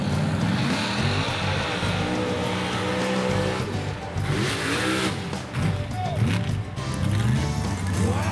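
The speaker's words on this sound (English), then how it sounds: "Watch as he does a last minute purge of nitrous before tackling some serious Somerset County mud" A modified mud bog truck roars through deep Somerset County mud at a Crisfield mud bog event after a nitrous purge. Its engine revs hard and loud and steadily for the whole stretch, with a strained, churning drone.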